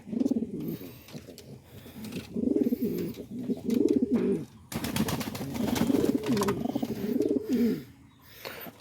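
Pigeons kept in a loft with eggs and chicks coo repeatedly at close range, their low rolling calls overlapping in bursts with short pauses, with some faint rustling in between.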